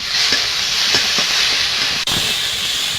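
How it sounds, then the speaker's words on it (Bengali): Ingredients for coriander-leaf fritters fry in a pan, giving a steady, fairly loud hiss of sizzling oil with a few soft crackles and a brief dip partway through; no one speaks. "এটা আমি একটু ভেজে নেব"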